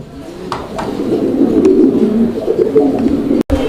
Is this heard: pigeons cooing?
yes